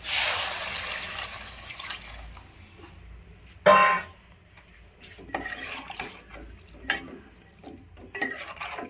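Water is poured into a pan of masala frying with turmeric and coriander powder for a poori potato curry. A sharp splash and hiss follow a fading sizzle, then quieter bubbling and scattered stirring clinks nearby.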